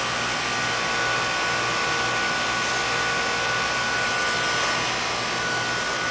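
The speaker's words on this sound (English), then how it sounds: "So it has a 2-stage Copeland scroll compressor in it" A two-stage heat pump with a Copeland scroll compressor runs outdoors in a residential neighborhood in summer, giving a steady, even broadband whoosh with a low hum beneath, constant throughout with no talking.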